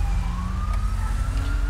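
Police siren in GTA V wails in a steady, slowly rising tone over a low engine rumble, loud and continuous throughout.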